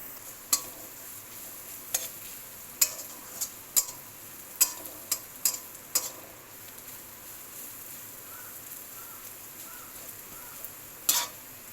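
Dried chili ground with salt, heard as about a dozen sharp, irregular taps and scrapes over a faint steady background hiss, with no voices.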